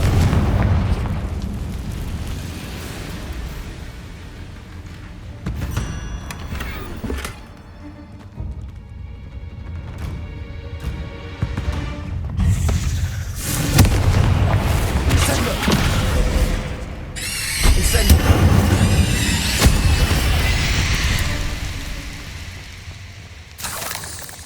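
Repeated Confringo fire spell blasts in Hogwarts Legacy, a series of heavy booms and crackling bursts that build in density and loudness over a rumbling cave ambience, several landing close together.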